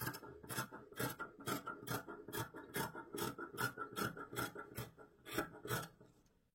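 Scissors cutting fabric along a paper pattern for a coat skirt panel: steady rapid rasping snips in a continuous rhythm, close and moderately quiet, with no talking.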